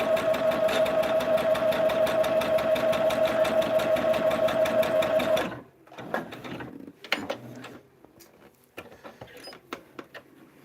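A sewing machine stitches a Dahlia Magic table topper with a fast, even mechanical chatter for about five seconds, then stops, leaving quiet handling clicks and rustles.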